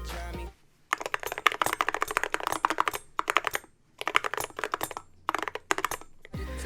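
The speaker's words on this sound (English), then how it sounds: "they are using all brass keycaps, which create a really unique sound" Mechanical keyboard fitted with all-brass keycaps, typed on in quick bursts of crisp, close clacks with short pauses between runs.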